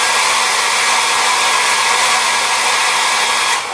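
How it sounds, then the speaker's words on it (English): A hair dryer blows steadily with a loud, constant airy whir, cutting off abruptly near the end. "we can go ahead and hit that with a hairdryer."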